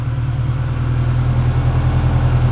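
A Honda car engine idles steadily just after being restarted following an ECU update, a close, loud, even low rumble that holds constant throughout with no revving and no talk.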